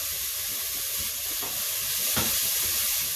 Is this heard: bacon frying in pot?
yes